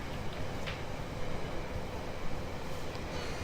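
Steady rumbling train noise in the video game Rolling Line rolls on continuously, with faint rattling and occasional brief clicks on top.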